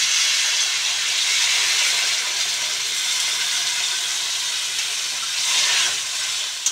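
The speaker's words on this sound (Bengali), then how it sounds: "দেখো, এখন আমি জল দিয়ে দেবো।" Water hits hot fried spice masala in a pan and sets off a loud, continuous hiss of steam that holds steady for several seconds.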